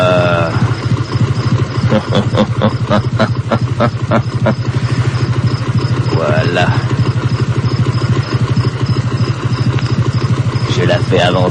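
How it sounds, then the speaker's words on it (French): A motorcycle engine idles close by in a steady, loud mechanical thrum with rhythmic clattering pulses while the bike is pushed forward slowly, and someone speaks briefly over it. "Je vais avancer un peu avec sa moto."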